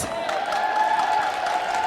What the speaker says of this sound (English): Couldn't we hear some cheering for all the officials?